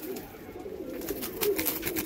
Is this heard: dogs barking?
no